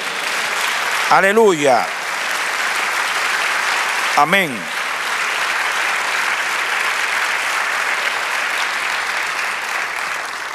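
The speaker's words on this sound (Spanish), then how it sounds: "Denle un aplauso al Señor." A church congregation gives sustained applause for the Lord, steady and full throughout, with a couple of short voiced shouts of praise rising above the clapping.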